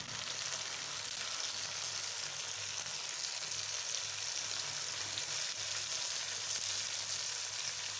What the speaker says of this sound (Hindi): 10 से 15 मिनट हमने इसके अंदर जो है ना फ्राई करना है ताकि अच्छी तरह पक जाए।